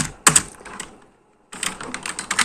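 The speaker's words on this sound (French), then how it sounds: "Donc, je tape lecture" Short bursts of keyboard typing entering a search for reading lessons, a quick cluster of keystrokes, a pause, then a longer run of rapid clicks, close and fairly loud.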